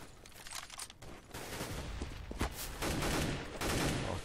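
Rapid bursts of gunfire from the Counter-Strike video game on the de_dust2 map crackle continuously in a dense, overlapping fusillade, fairly quiet throughout.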